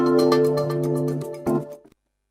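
A telephone rings with an incoming call during a live broadcast, producing a steady tonal ring with a pulsing pattern that cuts off abruptly, heard clearly and alone.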